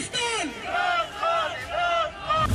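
Demonstrators outside the Pakistani High Commission in London chant slogans against the election commission and government, a crowd shouting in repeated rhythmic call phrases, close and steady throughout.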